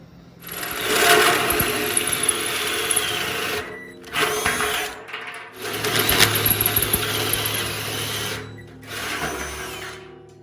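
A power drill with a 1.5 inch hole saw cuts an intake hole in a smoker drum for an ugly drum smoker, in three loud grinding runs separated by brief pauses.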